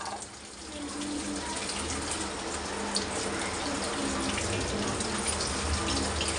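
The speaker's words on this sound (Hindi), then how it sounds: "पानी बंद करो।" Tap water runs steadily into a kitchen sink while dishes are scrubbed, a continuous close splashing wash filling the whole stretch with no pauses.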